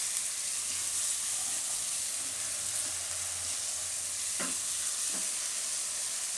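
Salt, coriander leaves and red chillies stirred together in a pan for soya bhurji pulao, a steady soft scraping and faint sizzle continuing throughout with a couple of brief clinks near the end, no voices.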